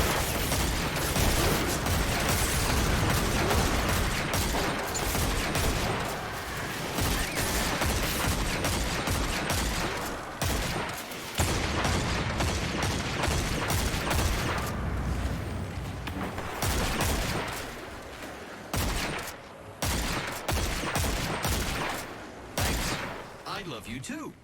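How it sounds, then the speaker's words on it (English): Grenade explosions and heavy gunfire fill a dense video game dungeon battle, a continuous loud barrage with bursts and booms, while a voice talks over the din. "What a good, consistent grenade."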